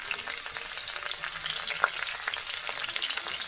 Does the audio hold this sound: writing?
no